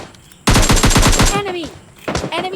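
Automatic gunfire in the PUBG Lite battle royale game rattles in a fast, loud burst of rapid shots, followed by a short pause and a second, briefer volley.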